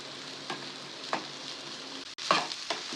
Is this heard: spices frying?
yes